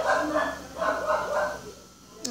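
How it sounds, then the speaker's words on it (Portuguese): Dogs bark in short repeated bursts close by, loud and overlapping, with a brief sharp sound at the end. "os cachorros vêm atrapalhar"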